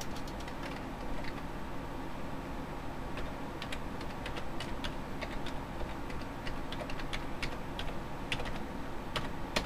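Typing on a computer keyboard, quick irregular key clicks pattering softly and continuously throughout, close by, with a quiet background hum and no talking.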